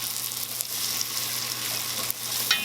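Vegetables for a cheddar broccoli soup softening in a pot, giving off a steady soft sizzle with faint stirring scrapes and a couple of small clinks, fairly quiet and without talk.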